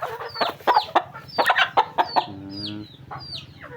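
Chickens cluck close by in quick bursts, with a few higher squawks and one longer buzzing call mixed in.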